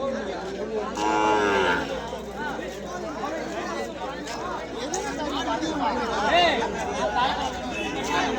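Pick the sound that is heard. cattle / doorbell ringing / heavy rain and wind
cattle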